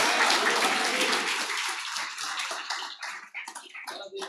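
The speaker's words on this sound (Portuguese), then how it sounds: "Dá uma salva de palmas," Church congregation at a religious gathering bursts into applause, a full wash of clapping that fades into scattered individual claps toward the end.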